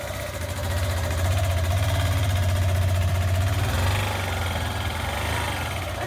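A motorcycle engine idles and runs steadily at close range, a low droning hum with a brighter rise in the middle, set on a village road with two riders about to set off.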